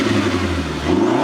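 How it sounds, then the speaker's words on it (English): A Mini Cooper F-series car engine fitted with an aftermarket MST intake revs loudly and steadily with a deep, throaty growl, close up and held briefly. "we just got finished installing an MST intake on my car to make it sound like this"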